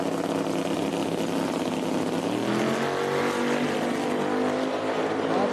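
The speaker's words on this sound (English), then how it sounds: "It's going to be a drag race right there" Drag race cars launch side by side at National Trail Raceway in a no-prep final, including a Monte Carlo. Loud, continuous engine roar holds steady across the run with rising pitch, no talk.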